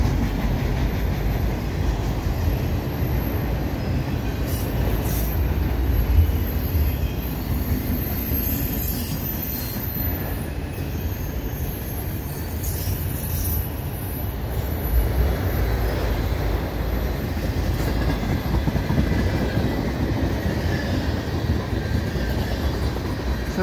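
A CP mixed freight train rolls past at Dorval in winter, a continuous loud rumble of railcars with wheel squeal and clatter throughout, no voices.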